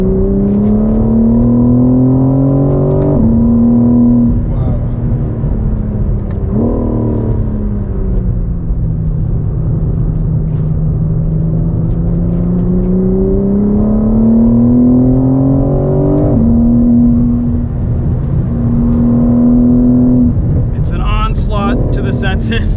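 A 2023 BMW M4 CSL's engine drones loud and close on a race track, its pitch rising with each gear and dropping at the upshifts, the revs swelling and easing through the corners.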